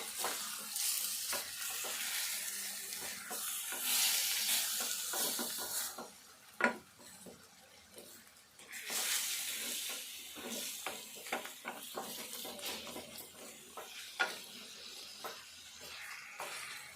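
Chicken and onions are stirred in a pot with a faint, steady sizzle of cooking. Scattered soft scrapes and light clinks of the utensil come through, fairly quiet throughout.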